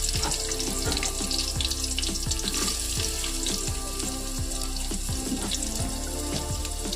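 Garlic and half-cut onion frying steadily in oil in a pan, a loud continuous sizzle with crackles and some clicks from stirring or the utensil, close and with no talking over it.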